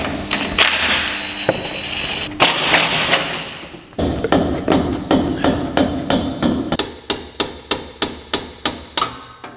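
A size 14 shock absorber bolt is worked loose on a Mitsubishi L200 during rear suspension replacement, giving a burst of sharp, loud rattling impact-tool hits followed by a steady series of evenly spaced metallic clacks, close up with no talking.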